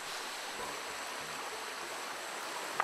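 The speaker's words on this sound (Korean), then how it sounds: "와, 물소리 예. 좋다." Water in a mountain stream rushes steadily over rocks, a soft, even hiss heard from a short distance with no voices.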